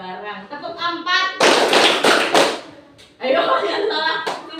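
Children in a classroom clapping game strike their hands together in a quick cluster of several loud, close claps, with an adult voice speaking before and after.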